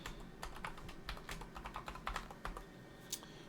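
Rapid keystrokes on a computer keyboard as a password is typed in, a quiet, irregular run of soft clicks with no voices.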